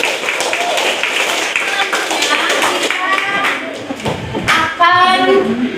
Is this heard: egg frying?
no